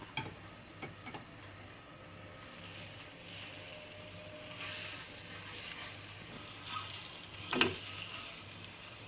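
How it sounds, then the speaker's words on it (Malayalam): Boiled eggs fry in a pan over very low flame with turmeric and chili powder, making a quiet, steady sizzle with faint stirring taps and one brief louder scrape near the end. "മഞ്ഞൾപ്പൊടി എന്നിവ ചേർത്തൊന്ന് വഴറ്റി മുട്ട ഓരോന്നായി ഇട്ട് കൊടുത്ത് ഫ്രൈ ചെയ്തെടുക്കാം"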